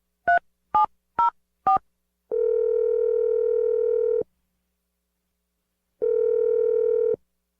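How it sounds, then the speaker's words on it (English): Four short two-tone dialing beeps, then a steady electronic phone tone that rings twice in long bursts with a pause between, clear and alone. "We're going to dial her phone number right now."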